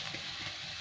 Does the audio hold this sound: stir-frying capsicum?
yes